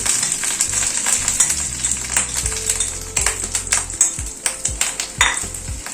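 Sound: fish roe frying in hot oil

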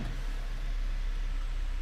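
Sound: Chevrolet Equinox engine started and running

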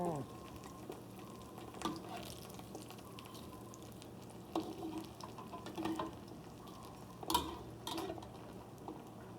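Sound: food frying in oil

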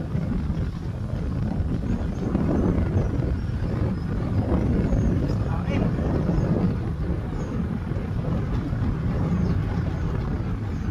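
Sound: strong headwind

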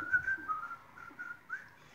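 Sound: whistling

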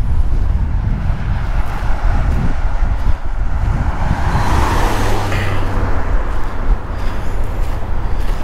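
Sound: wind blowing through trees

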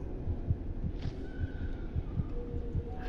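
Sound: heartbeat in the video game Among the Sleep

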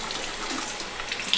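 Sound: water running while washing face

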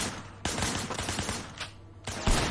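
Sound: gunfire in blind fire mode, from a video game

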